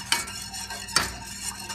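A spoon stirs sugar into hot, not boiling water for hummingbird nectar, clinking twice against the container amid soft swishing, close and alone.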